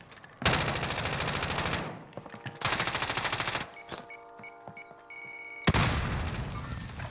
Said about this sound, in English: somebody's shooting from somewhere